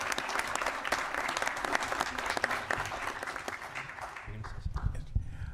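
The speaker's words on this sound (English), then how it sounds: "So if we could give Jacqueline a round of applause" An audience at a formal board meeting breaks into dense, steady applause. It fades out after about four seconds, and a voice begins speaking as it dies down.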